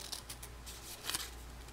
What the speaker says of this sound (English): Cut that trapezoid there and there